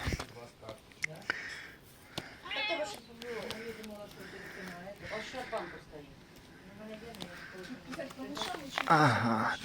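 Domestic cat, a Maine Coon, meowing in short calls at close range beside a pond, heard amid steady talk and playful vocal noises from a person nearby.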